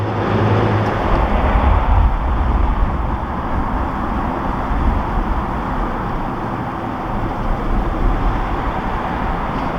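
A narrowboat engine works under extra throttle during a tight turn on a winter canal cruise, giving a close, steady low rumble with a brief swell near the start.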